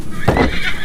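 A horse whinnies briefly and close by, a short burst with a rough, breathy edge over faint background noise.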